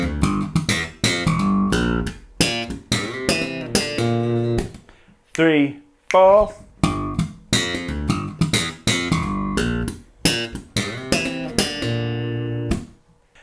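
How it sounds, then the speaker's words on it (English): Slap bass guitar plays the first two bars of an advanced riff in tight, percussive, punchy notes, loud and close, with a brief slide in the middle and a voice counting in. "Now let's put bars 1 and 2 together."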